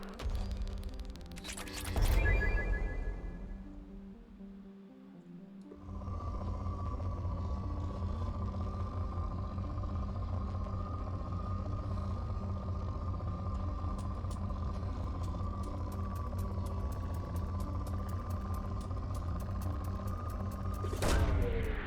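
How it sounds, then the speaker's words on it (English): Probe launch during planet scanning in Mass Effect 2: a sharp burst near the start, a dip, then a steady synthetic whooshing hum with a sustained tone, ending with another short burst, loud and without talk. "Probe away."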